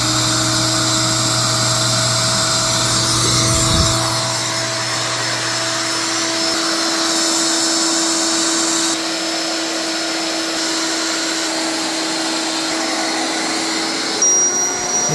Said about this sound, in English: I'm going to open up the deflation valve, and I'm also going to turn the power on, which will power deflate it.